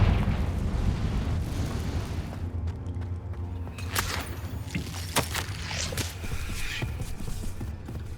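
A Confringo blasting spell in Hogwarts Legacy sets off a rumbling explosion, then a run of sharp crackling pops and thuds as debris scatters, moderately loud and close.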